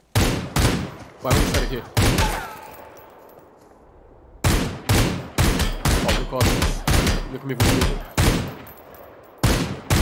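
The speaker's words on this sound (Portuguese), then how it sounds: "eu tava atirando num cara, acertei muito tiro" Rapid bursts of automatic gunfire from the battle royale video game Super People crack loudly in repeated volleys, with a short lull in the middle, while players talk over the shooting in Portuguese.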